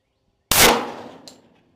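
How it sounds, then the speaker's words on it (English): A single sharp 10mm pistol shot cracks out close and loud, striking a 100-pound punching bag, with the report decaying over the following second and a faint metallic tick near the end. "Here we go, 10mm gets a punching bag."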